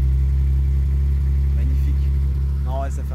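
Carburetted six-cylinder engine of a 1979 BMW 520/6 E12 running steadily up close, a loud, even low rumble throughout, with a brief voice near the end.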